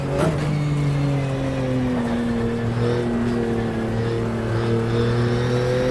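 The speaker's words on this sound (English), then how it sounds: "the Porsche sounds like a perfect flat six" A Porsche flat-six engine in the racing game GTR2 drones steadily at high revs, a loud continuous engine note with layered harmonics that sweep gently as the car drives on, with no talking.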